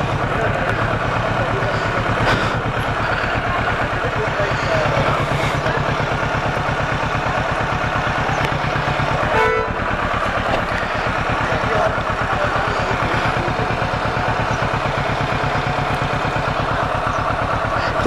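A Kawasaki Ninja 650 motorcycle engine idles steadily with a low, even rumble throughout, while people talk over it nearby.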